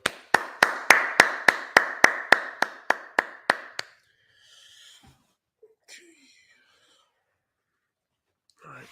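Twelve sharp hand claps in a steady, quick rhythm at a Sabbath service, close and loud, fading slightly toward the end, followed by faint breathy sounds and near silence.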